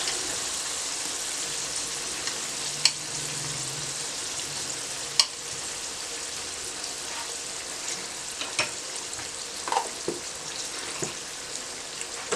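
Tomato puree frying with spices in a pan over low flame for pea, carrot and potato pulao, a soft steady sizzle with sharp spatula clicks at intervals, close and fairly quiet, no speech.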